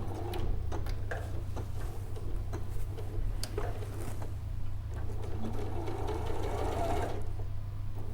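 A sewing machine whirs and clatters steadily up close as it stitches a stuffed toy dog, running continuously for several seconds without speech.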